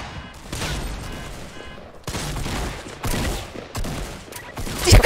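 Gunfire from an online shooter game on a new high-FPS gaming PC, dense bursts of rapid shots and impacts in several loud clusters, with brief gaps between volleys.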